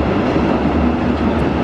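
Freight train wagons roll past at a loud, close range, making a continuous dense rumble with a steady low drone throughout.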